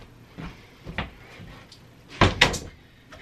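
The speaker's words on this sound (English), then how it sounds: "Hold on, let me shut my door." A bedroom door is pushed shut at home in the evening, a few soft knocks and rattles of handling followed by a close, sharp double thud as it closes.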